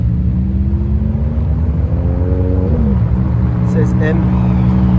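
A Ferrari F430 16M passes in a convoy, its engine a loud continuous rumble with a rising and falling harmonic sweep as it goes by, drowning out background chatter.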